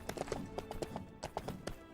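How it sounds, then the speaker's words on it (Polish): Horse hooves clip-clop in a quick, steady rhythm while riding a horse in LEGO The Lord of the Rings video game, fairly faint with no talk over them. "tutaj wsiadamy na koń i jedziemy"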